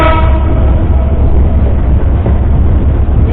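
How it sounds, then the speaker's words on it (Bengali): A passenger train on the Dhaka to Benapole route pulls slowly away from the platform at Kamalapur, a loud, steady low rumble of wheels and engine heard close up with no pauses. "আমাদের ট্রেনটি এখন ছেড়ে দিল প্ল্যাটফর্ম চত্বর দিয়ে আস্তে আস্তে।"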